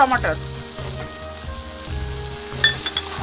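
Potatoes frying with chicken in a pan for Bengali chicken kosha, giving a steady sizzle with occasional stirring clinks, close, over a low rhythmic mechanical hum.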